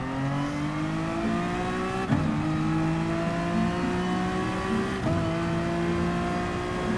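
A race car engine in Gran Turismo Sport drones loudly, its pitch climbing steadily through the gears, with two sharp jolts and a rattling thump as the car runs over a curb.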